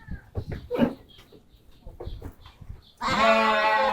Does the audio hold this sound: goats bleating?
yes